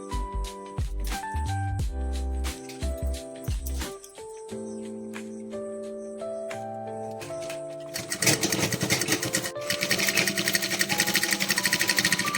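A sewing machine stitches curtain fabric, its rapid, steady mechanical whirr starting abruptly partway through and running continuously and fairly loudly to the end, after a quieter stretch with tonal sounds.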